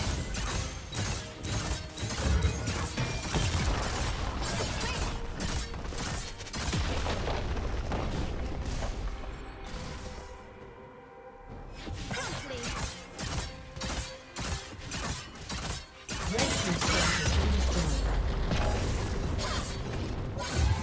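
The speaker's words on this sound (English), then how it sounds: "Red team's turret has been destroyed." A turret is destroyed in a busy League of Legends match: booms, crashes and mechanical clanks pile up in loud game effects, with a short quieter gap partway through before the din returns.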